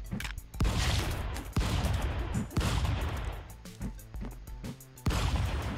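Rapid automatic gunfire from the stick-figure brawler video game Stick Fight, dense bursts of shots fired in quick succession with brief gaps, loud and up front, with no talking over it.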